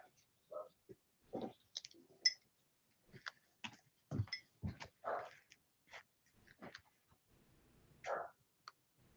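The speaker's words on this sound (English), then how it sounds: "Enter my dogs." Several dogs come into a room, with scattered short barks, yips, growls, panting and claws clicking, close by and irregular, with a few brief human sounds between them.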